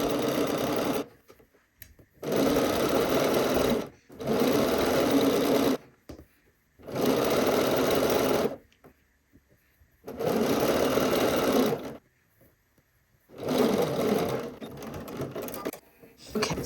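A sewing machine stitches along the outer edge of a shirt facing with interfacing, running in six steady bursts of whirring of about two seconds each, separated by short silent pauses.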